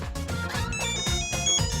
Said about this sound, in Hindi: फोन आ रहा है सर,